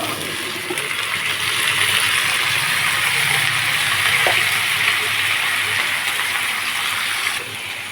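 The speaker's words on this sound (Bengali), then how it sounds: "এবার সবজিটা ঢেলে দিলাম।" Steady, loud sizzling and hiss fill the clip as vegetables go into a hot pan of fried onion, asafoetida and green chilli, continuing without a break throughout.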